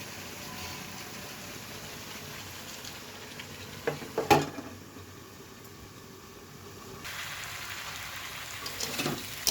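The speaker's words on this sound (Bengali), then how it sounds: "এখন সবজিগুলো সুন্দরভাবে কষিয়ে গেছে" Mixed vegetables with moong dal sautéing in a pan, a low steady sizzle with a few spoon scrapes and clinks partway through, close and fairly quiet.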